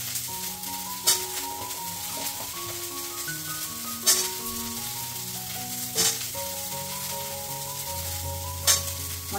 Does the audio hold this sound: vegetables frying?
yes